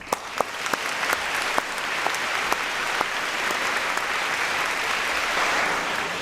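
Steady applause fills a hall at a medical MBChB graduation ceremony, a dense, even wash of many hands clapping with a few sharp individual claps standing out at the start.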